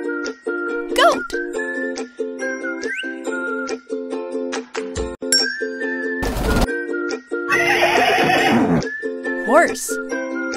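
A horse in a kids' animal puzzle game gives one loud, rough neigh lasting a second or so. It rises over bouncy looping game music broken by clicks and short chimes.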